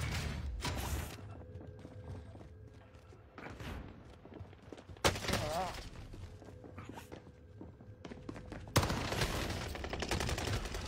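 Sharp bursts of automatic gunfire in a shooting video game crack out in several loud volleys separated by quieter stretches of footsteps and mechanical handling, with faint voices in between.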